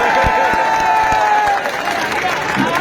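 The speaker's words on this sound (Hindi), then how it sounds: "जोरदार तालियां" A crowd gives loud applause for a politician at a Khilchipur public rally, a dense wash of clapping with a few sharper claps, continuous across the whole moment.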